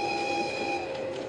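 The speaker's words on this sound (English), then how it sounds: "The train blew the horn as it passed." A train rolls past with a sustained, steady horn blast ringing over the rumble of wheels on the rails, close and fairly loud, with no voices.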